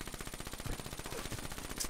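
Rapid automatic gunfire in a first-person shooter video game, a dense stream of quick repeated shots at a steady rattling rhythm, fairly close and without speech over it.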